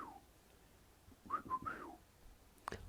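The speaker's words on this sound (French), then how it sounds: "je sais pas siffler, on dirait." A person tries to whistle, producing a short, wavering tune of a few breathy rising and falling notes, quiet and fairly close, followed by one brief final chirp.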